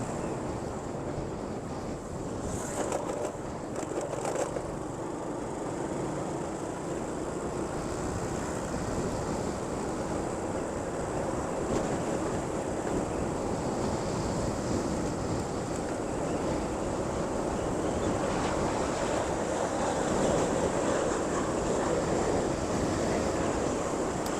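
Strong wind blows outdoors near a police station on a road in Banten, making a steady, loud rushing roar with gusty buffeting against the microphone that lasts throughout.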